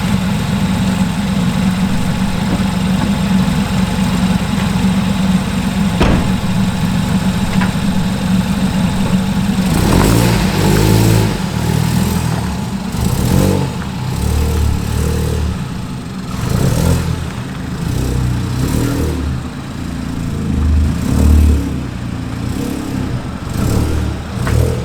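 A Ford Fiesta EcoBoost car engine idles steadily with a low hum, then revs and runs rougher and louder in the second half, close by with no talk.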